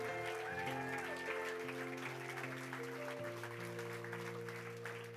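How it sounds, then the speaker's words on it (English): Church congregation clapping during a lively worship service, steady dense applause mixed with sustained organ or keyboard chords and singing voices throughout. "Come on, keep on clapping."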